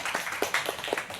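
A church congregation claps in a brief scattered burst of about half a dozen soft hand claps, heard at a distance.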